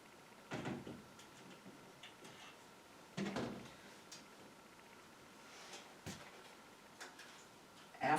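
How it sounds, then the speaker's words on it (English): The piston valve of a 19th-century alto horn is pressed down and let back up, making a few soft, close mechanical clunks spaced seconds apart over a quiet room background. "You push the button and the valve moves down and up within the casing."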